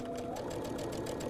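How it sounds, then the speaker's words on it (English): A domestic sewing machine stitches a quarter-inch seam on a patchwork quilt, giving a quiet, rapid, even mechanical whir with a regular needle rhythm throughout the short stretch. "Wake up our sewing machine"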